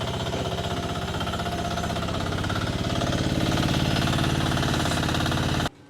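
An 800 kg mini excavator's diesel engine runs loud and steady with a rhythmic knocking throb while the machine is loaded onto a Sokmoto hybrid carrier, its pitch rising slightly midway before cutting off abruptly near the end.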